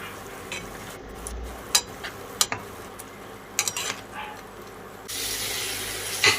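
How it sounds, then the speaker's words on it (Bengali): Water is added to a pan of potatoes and spices for a Bengali lote fish dish: soft stirring scrapes and clinks, then a sudden burst of loud hissing sizzle near the end. "এবার জল দিয়ে কষিয়ে নেব।"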